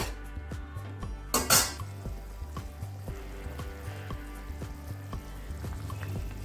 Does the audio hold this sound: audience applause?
no